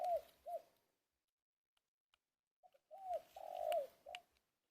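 A spotted dove coos close by in quiet surroundings, giving short soft hooting phrases in two clusters separated by a silent pause.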